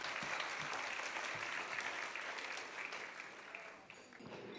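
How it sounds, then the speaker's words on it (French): Warm, sustained audience applause in a church gathering, a thick wash of many hands clapping at a fairly even level that dips slightly near the end. "Je crois qu'on peut l'applaudir avec Evelyne"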